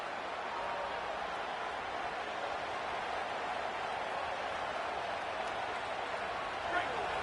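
Stadium crowd roaring in a college football video game featuring the Texas Longhorns, a steady, dense wash of cheering that holds at full volume throughout with no breaks.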